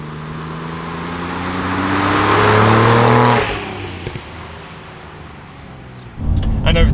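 A RUF Porsche 993 Turbo engine revs up steadily and grows louder while driving, then drops back to a lower idle before a sudden loud roar near the end.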